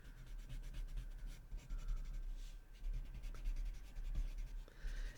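A graphite pencil scratches and rubs continuously across paper during Zentangle-style shading, close and fairly quiet, with no talking.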